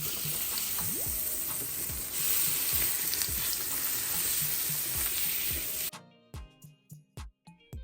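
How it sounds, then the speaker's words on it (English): Salmon fries in a pan for fish and chips, a dense, loud sizzle with occasional clacks of a utensil, then the hiss cuts out abruptly, leaving a few sharp knocks and taps. "I'm going to flip the salmon."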